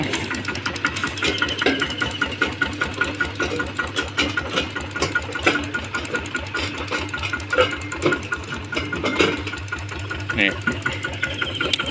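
A 12-horsepower engine running steadily nearby, a loud, fast, even chugging beat that continues without a break, with people talking over it.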